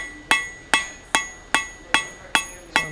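A hammer strikes a forged steel taper on an anvil to smooth out hammer marks, seven sharp ringing blows at an even, unhurried pace, each decaying quickly, close and loud.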